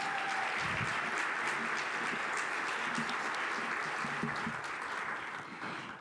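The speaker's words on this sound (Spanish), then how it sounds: "Un aplauso" Audience applause at a panel event, a steady wash of many people clapping at a fair distance, fairly quiet and continuous, tapering slightly near the end.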